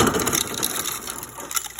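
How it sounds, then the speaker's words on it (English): Ice cubes tumble from a refrigerator's ice dispenser into a tall glass, a loud rattling, crunching clatter that runs continuously close by and tapers slightly toward the end, with no voices. "when you have a tall glass and you hit the ice button,"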